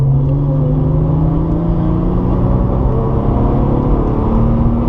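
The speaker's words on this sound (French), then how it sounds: "On va chercher un peu de gaz. On accélère." Porsche 997 Targa 4S engine pulling hard on a race circuit, a steady loud mechanical roar with rising harmonic tones as revs climb, continuous and close throughout.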